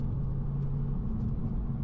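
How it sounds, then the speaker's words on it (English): An Audi TT with a DSG gearbox accelerates hard in second gear, giving a dense, continuous engine rumble heard from inside the car with no talking. "DSG shift sounds incredible."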